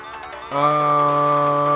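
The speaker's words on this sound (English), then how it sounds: "then the phone rang." A phone rings in the visual novel Steins;Gate: after a half-second of quieter tones, a loud, steady electronic ringtone with bright sustained pitches sounds alone.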